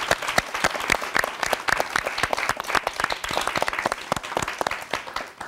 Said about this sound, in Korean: 우리 박수 한번 해야 되겠어요.